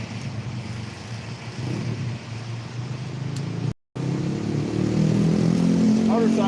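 A motorcycle rumbles past beside someone fishing with a KastKing Zephyr baitcasting reel, its engine drone loud and steady, cutting out briefly before returning louder as it nears.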